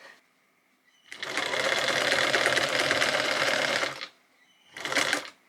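A sewing machine stitches pleats in denim for a skirt, a close, loud whirring run of about three seconds, then a pause and a second short burst.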